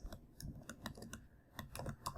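Keys clatter on a computer keyboard as C++ code is typed, a quiet, irregular patter of separate clicks with short pauses between bursts.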